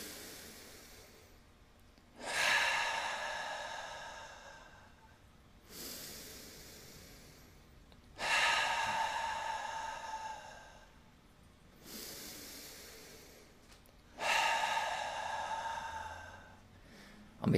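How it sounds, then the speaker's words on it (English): A group breathes in slowly through the nose three times, each long airy inhale rising and then fading with a short quiet pause between breaths, close and clear with no talking. "Let's take 3 breaths together."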